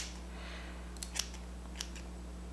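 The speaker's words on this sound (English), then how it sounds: "We're gonna cut the ends of this and make it a little bit even." Scissors cut across the ends of a kinky straight wig, making a few faint, crisp snips close by over a low steady hum.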